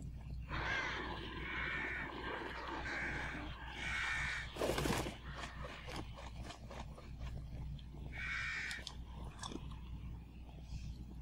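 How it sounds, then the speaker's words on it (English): Crows caw in a dark outdoor scene of the horror video game The Evil Within, several harsh calls spaced over a low ambient rumble, faint overall. "I'm hearing crows."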